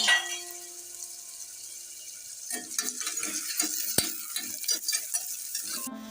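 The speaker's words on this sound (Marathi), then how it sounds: "चांगला कांदा ब्राऊन होईपर्यंत फ्राय करून घ्यायचा आहे" Onions fry in a pan for prawn rice and are stirred repeatedly, the soft sizzle broken by clustered scraping strokes of the spoon that grow busier after the first couple of seconds.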